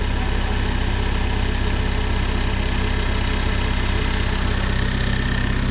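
A Renault Clio IV RS with a freshly fitted hybrid turbo idles close by, a steady, even engine rumble with a faint ticking texture that stays constant throughout, with no voices.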